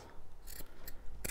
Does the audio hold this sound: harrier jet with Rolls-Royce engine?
no